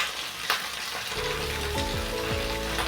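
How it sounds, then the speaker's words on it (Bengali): Vegetables frying with turmeric and salt for Bengali shukto, the sizzle swelling up about a second in and then holding steady and close, with an occasional stirring scrape. "এবার এটাকে ভালো মতো ভেজে নেব।"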